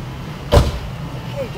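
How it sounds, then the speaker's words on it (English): A car door is shut once, a single short thud near the middle set against quiet outdoor street ambience. "Please, John, make sure the door's shut."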